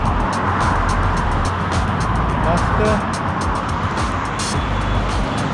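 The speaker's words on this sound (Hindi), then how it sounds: "और अपनी हंटर हम चला रहे हैं" A Royal Enfield Hunter 350 motorcycle rides along a busy road on a cold day, its steady engine and wind roar filling the scene while someone speaks briefly over it.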